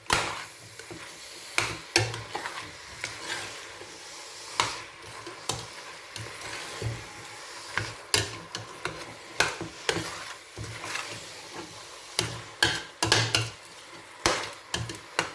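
Vegetables and spices frying in a pot are stirred, giving repeated scraping and clattering strokes over a steady sizzle. The sounds are near and come in irregular bursts, with no voices.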